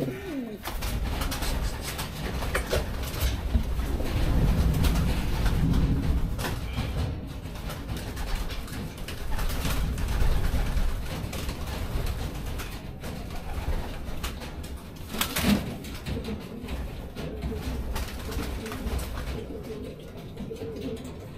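Racing pigeons coo steadily and repeatedly, several birds murmuring close together with occasional wing flutters and background bustle.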